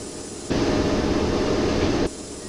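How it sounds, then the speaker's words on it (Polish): Steady, broadband rumbling of a locomotive rolling backward in the MaSzyna train simulator, swelling in abruptly for about a second and a half over a quieter background hum, then cutting back down. "Lokomotywę cofnęło z wrażenia."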